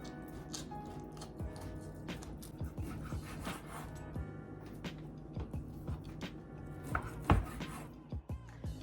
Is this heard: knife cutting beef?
yes